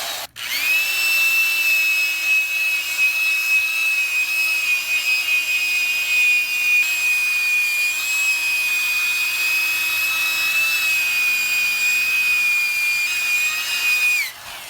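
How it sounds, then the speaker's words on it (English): A power drill fitted with a spin brush scrubbing during mobile car detailing, a steady, continuous whine with brushing friction that holds at an even pitch for about fourteen seconds, close and loud, with no talking. "It's just a spin brush you can connect to a drill."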